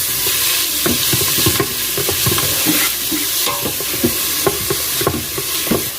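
Taco soup with ground brisket is stirred in a sizzling pot, a spoon scraping and knocking in a steady repeated rhythm over continuous loud frying hiss, up close, with no voices.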